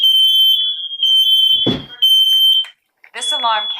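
A Nest Protect smoke alarm sounds loud repeated high-pitched beeps in pulses, broken by a synthetic voice announcement and a burst of noise between tones.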